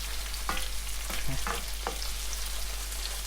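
Purple eggplant being stir-fried in a pan with oyster sauce, a steady sizzle with several scraping strokes of a spatula stirring the pieces, close and moderately loud with no talking.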